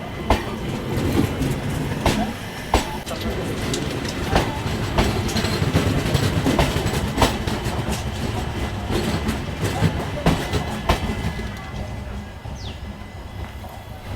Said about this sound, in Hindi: यशवंतपुर गोरखपुर एक्सप्रेस को पहले निकाला जा रहा है इधर से